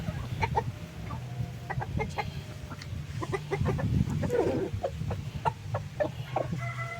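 Bamboo line gamefowl roosters in a breeding pen crow and squabble, with repeated sharp clucks and calls over a steady low farmyard rumble, some birds close and loud.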